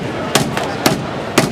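Hammer striking a package in a print-packaging setting, giving three sharp, loud, evenly spaced blows in a steady rhythm, with no talk.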